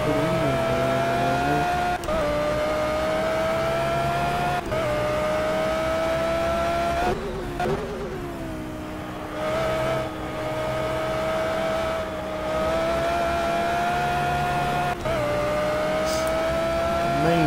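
GT3 race car engine in Project Cars, a loud, steady high-revving whine that climbs through the gears with brief dips at each shift and a longer lift off the throttle midway, continuous throughout with no talking.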